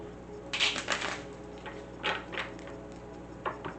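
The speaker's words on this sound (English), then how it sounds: "Give it one more good shuffle." Quiet, close riffling of tarot cards being shuffled in a few short bursts over a low steady hum.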